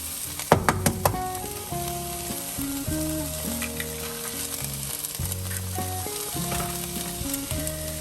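Eggs fry in a pan with a steady sizzle and crackle, sitting beneath fairly loud background music throughout.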